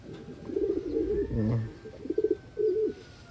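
Pigeons, two pairs of hens and cocks, coo in soft, low, throaty phrases, several overlapping and close by, with no talking.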